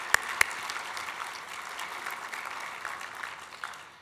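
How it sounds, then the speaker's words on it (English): Steady applause from a conference audience at an academic surgery presidential address, a continuous even wash of clapping with two sharper claps near the start. "So let's give a round of applause for Ryan."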